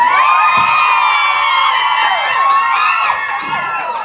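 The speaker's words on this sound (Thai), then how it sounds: "ขอเสียงกรี๊ดดังให้คุยอันอีกรอบนึงนะ" A crowd screams and cheers loudly and continuously, high-pitched shrieks and whoops blending together for a few seconds.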